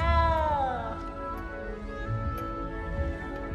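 A small cat in Hogwarts Legacy lets out a drawn-out, falling meow up close, followed by quieter game ambience.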